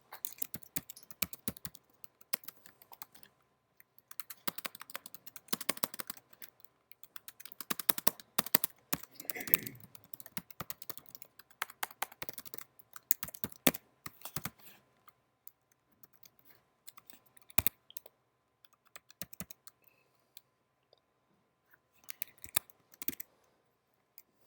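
Rapid, irregular clicking of a computer keyboard being typed on during a programming lecture, close and fairly quiet, in bursts with short pauses and faint room noise between them.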